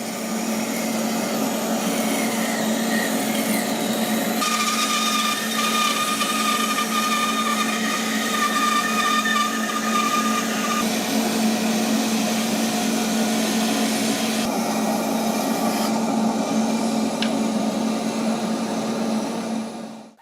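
Steady, loud CNC router cutting wooden shoe horn profiles, a continuous whining machine drone with a shifting high pitch, running without pause for about twenty seconds and ending abruptly.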